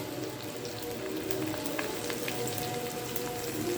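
Crushed small onions sautéing in hot oil with fried garlic for a Tamil vatha kuzhampu, a steady, even sizzle and crackle throughout with faint scattered pops, no voices.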